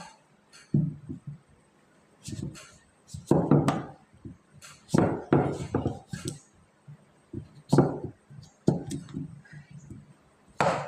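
A knife chops through a large pumpkin on a board in irregular clusters of thuds and knocks, close by, with short quiet gaps between strokes.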